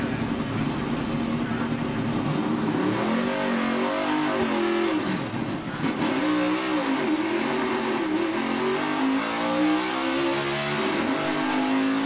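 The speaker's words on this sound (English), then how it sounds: "Hear him hit the rev limiter there from the first to second shift." A NASCAR Xfinity race car at Daytona qualifying winds its engine up hard through the gears and bangs against the rev limiter on upshifts, a loud continuous rasping drone that rises and dips in pitch.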